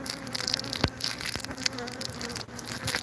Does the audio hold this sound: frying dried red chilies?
no